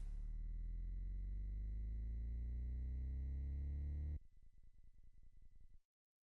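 Cue tones played back from tape: a long steady tone with rich harmonics, then an abrupt switch to a second, buzzier pulsing tone that cuts off near the end. No voices.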